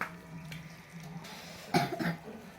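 A couple of short, sharp coughs in quick succession near the end, fairly close, over a quiet room hum.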